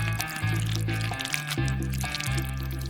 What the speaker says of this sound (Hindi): मैं अपने ड्रिंकिंग स्ट्रॉज में ग्लेज डालूंगा। इसे बिल्कुल ऊपर तक भर देंगे।